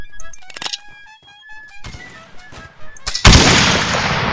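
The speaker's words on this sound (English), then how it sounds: "I'm being sniped at." Sniper and rifle shots in the Blood & Iron war game crack loudly in several separate bursts over a tonal in-game melody, ending in a heavy blast-like roar.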